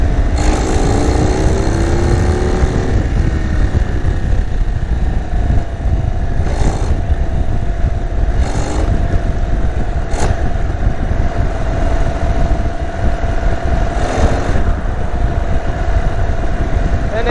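A 2023 Indian Sport Chief motorcycle with modified exhaust rumbles steadily while being ridden, a deep, continuous engine roar close by with rising and falling revs and wind noise throughout.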